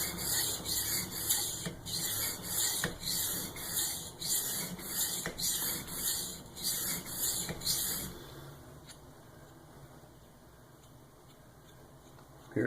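Knife stroked back and forth on a waterstone, a rhythmic scraping rasp of about a dozen close strokes, then quiet handling.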